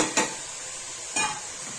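Mushroom and paneer frying in a pan for a vegetarian handi biryani, with two distinct scraping stirs about a second apart over a steady, soft sizzle.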